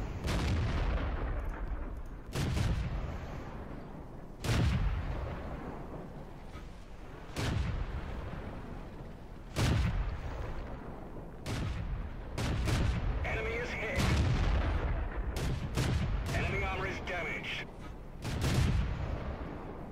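Tank cannons fire in the World of Tanks video game, heavy booming shots recurring every couple of seconds, loud and close, with rumbling decay and a faint voice underneath.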